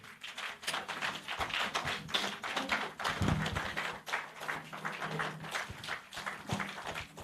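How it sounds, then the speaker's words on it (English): An audience at a Nigeria Academy of Pharmacy investiture ceremony claps for a speaker with dense, continuous applause that holds steady and fairly loud throughout. "Big round of applause for her."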